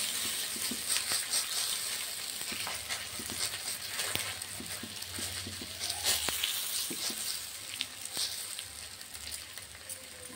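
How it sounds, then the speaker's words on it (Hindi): A semolina chilla cooking in a pan over a low flame, giving a continuous crackling sizzle with scattered sharp pops and ticks, steady and close. "सारे छीले को इसी टाइप से आपको निकालना है इसी तरीके से, और धीमी आंच में बनाना है ताकि कच्ची ना रहे"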